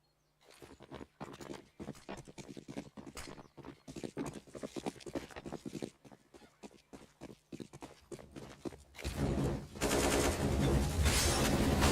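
Rapid gunfire rattles in Counter-Strike: Global Offensive on the Inferno map, bursts of sharp shots in quick succession, building into a dense, loud flurry toward the end.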